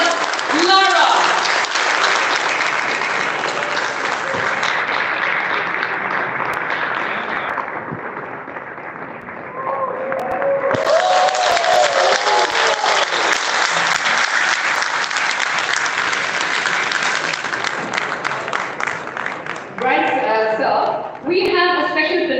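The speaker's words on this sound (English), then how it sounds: "Please put your hands together, ladies and gentlemen, with a thunderous round of applause" A conference hall audience at INFOCOM 2023 applauds loudly and continuously as a former cricketer is welcomed on stage, with music playing underneath and brief talk breaking in near the end.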